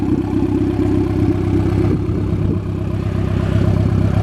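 A Honda Civic EF, stripped of bumper, hood and corner lights, drives with a loud, steady engine drone and deep low rumble up close, holding a constant pace without clear revving.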